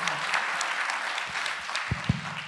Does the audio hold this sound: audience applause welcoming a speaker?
yes